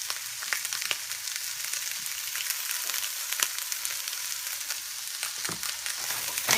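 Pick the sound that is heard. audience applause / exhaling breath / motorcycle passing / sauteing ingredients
sauteing ingredients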